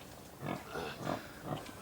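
Pigs, a Tamworth and a Saddleback, being moved into open woodland give several short grunting oinks in rough succession at moderate distance, quiet with outdoor background noise and no speech.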